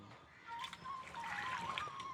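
Soft trickling and sloshing water close by as rice is washed, with small splashes and drips, quiet and continuous.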